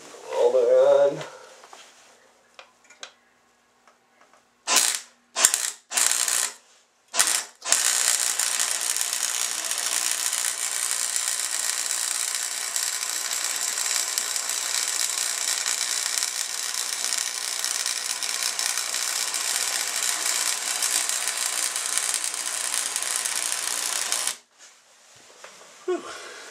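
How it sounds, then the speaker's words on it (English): Electric welder working on a tractor plow part, several short bursts of crackling buzz followed by a long continuous sizzling hiss of about sixteen seconds that cuts off abruptly, heard alone without talk. "Welder on."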